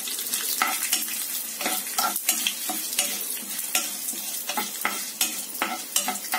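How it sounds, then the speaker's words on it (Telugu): Mustard and fenugreek seeds crackling in hot oil for a tempering, with dense close popping and sizzling in quick irregular bursts throughout and no voices. "ఆవాలు మనకి సౌండ్లో వస్తున్నాయి చూసారా."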